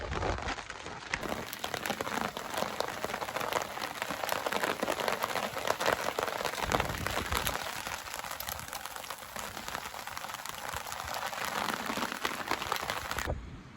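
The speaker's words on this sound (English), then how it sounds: "it started raining" Steady rain pattering on a surface at a riverside campsite in Colorado, a dense crackling hiss that continues evenly throughout at moderate volume, with no voices.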